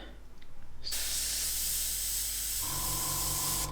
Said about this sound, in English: Test spray there, that seems to be coming through just fine.